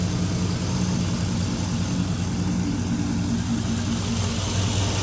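A car engine idles steadily and evenly after new spark plug wires were fitted, with no misfire, a continuous close low rumble running alone throughout.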